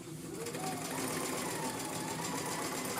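Sewing machine running steadily and close at a fast whirring pace, top stitching across a pleated fabric mask, continuous for the whole moment.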